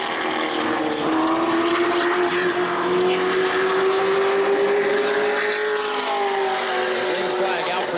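Sportsman race car at New Smyrna Speedway sliding sideways during qualifying, its engine droning in a loud, sustained tone that rises slowly as it passes, over constant track noise.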